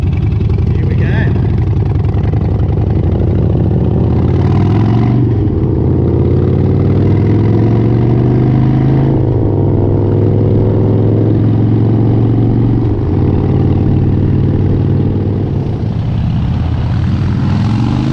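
Harley-Davidson motorcycle engines running on a ride in Townsville, a loud low rumble with rising and falling revs as throttle changes, close and dominant, with a voice speaking over it at times.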